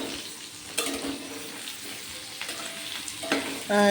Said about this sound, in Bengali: আলুটা দেখুন লাল লাল হয়ে ভাজা হয়ে গেছে